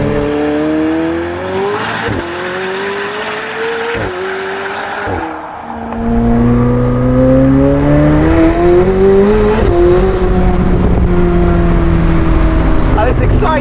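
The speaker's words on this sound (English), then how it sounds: "once you accelerate, the honing noise coming from that V8" McLaren 765LT V8 with a Novitec exhaust accelerating hard through the gears, loud and close. Revs climb and drop at each shift, and a voice talks over the engine.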